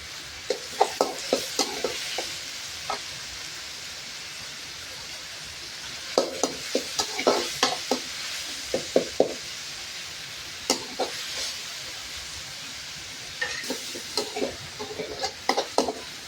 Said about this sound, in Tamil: இப்போ தக்காளி போடுறேன். இது கூட கொஞ்சம் சால்ட்டும் போட்டுக்கலாம், கொஞ்சம் வதங்கட்டும்.